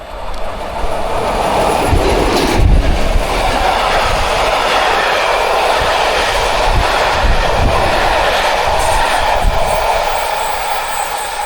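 A train hauled by an SO locomotive rolls past at Havlíčkův Brod with a loud, continuous rumble of wheels and cars, rhythmic clicking over rail joints, and a brief louder clank near the start.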